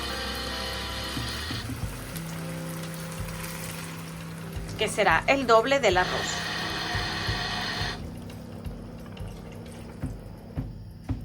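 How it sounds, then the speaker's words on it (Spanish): Water pours into a cooking pot of rice for a chicken recipe, a short splashing gurgle in the middle of the clip, with a person talking in Spanish before and after. "De momento solo toca agregar el agua,"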